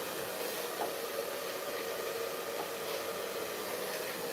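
A very strong hair dryer blows continuously, a loud, steady rushing hiss of air with no breaks or changes in level, close up and alone.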